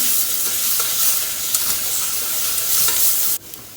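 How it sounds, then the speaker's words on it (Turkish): Tomato paste sautéing in a pan, a loud close sizzle with light stirring scrapes that stops abruptly near the end. "Bunu da kavurduktan sonra şöyle bir yemek kaşığı salça ekleyeyim. Bunu da kavuruyorum."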